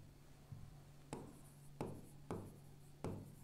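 Pen writing on paper during a Class 12 Hindi lesson: faint scratchy strokes start in short bursts, about five, at a steady pace, close and quiet with no talk.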